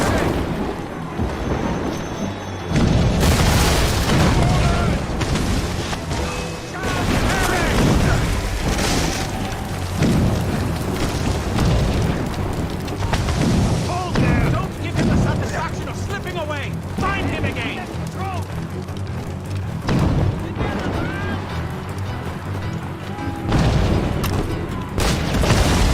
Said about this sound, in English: Chevalier is using mortars